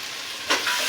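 Onions frying with rock salt in a pan are stirred, giving a steady sizzle with a louder scraping swish about halfway through, close and alone.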